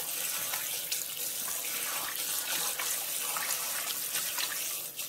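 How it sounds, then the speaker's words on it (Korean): Tap water runs steadily into a bowl in a kitchen, a continuous close hiss and splash that holds level for several seconds with no voices, while the bowl is being filled to soak perilla leaves in vinegar. "물을 받아가지고요"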